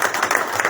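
Applause from the audience at a university doctoral program launch honors a professor, a brief burst of clapping heard for under a second.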